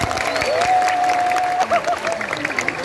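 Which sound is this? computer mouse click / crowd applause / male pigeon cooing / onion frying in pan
crowd applause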